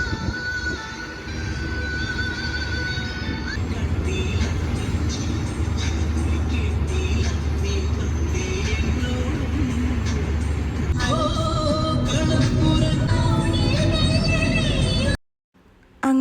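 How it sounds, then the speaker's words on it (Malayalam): Bus pulling away on a homeward trip from Kochi to Trivandrum, a steady low engine rumble with cabin rattle under music and some talk, continuing evenly until a brief cut near the end. "അവസാനം പിന്നെ ബസ് എടുത്തു കേട്ടോ"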